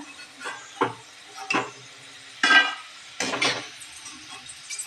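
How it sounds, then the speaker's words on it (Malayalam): Gobi manchurian cauliflower pieces deep-fry in a small amount of oil in batches. A soft, steady sizzle runs under intermittent close metallic scrapes and clinks as pieces are stirred and scooped out. "ഇതുപോലെ വറുത്ത് കോരി എടുക്കുകയാണ്"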